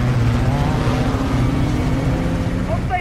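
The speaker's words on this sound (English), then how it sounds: "I'm in the truck." A military truck rolling along in the Call of Duty MW2 campaign makes a steady, loud engine drone with a low rumble that holds throughout the moment.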